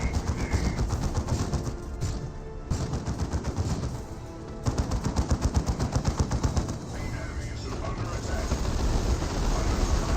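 Rapid automatic suppression gunfire in the Dawn of War 2 video game, dense rattling bursts repeating across a busy battle mix, with brief gaps and some game sounds underneath.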